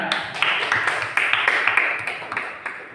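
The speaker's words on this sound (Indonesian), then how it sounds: "Berikan tepuk tangan ya." An audience at a classroom group presentation breaks into brief applause, a short burst of sharp, uneven hand claps close by, with faint voices underneath.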